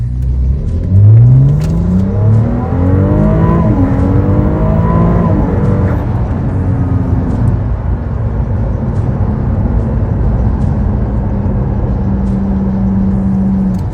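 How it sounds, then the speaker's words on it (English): The V6 turbo of a 2025 Ferrari 296 GTS revs hard on the move, its loud pitch climbing and shifting through gears before easing into a steady cruising drone. "let's just have a play and have a listen to this beautiful V6 turbo"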